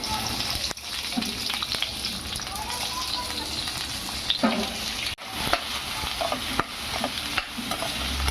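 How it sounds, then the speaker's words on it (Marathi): Onion fries in a pan for a paneer curry with a continuous close sizzle, and stirring scrapes come through here and there across the frying. "कांदा फ्राय करून घेऊ।"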